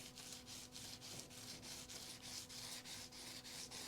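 Guitar frets being polished on the neck of a PRS Swamp Ash Special, a soft rhythmic rubbing stroke repeating steadily about twice a second, quiet and close.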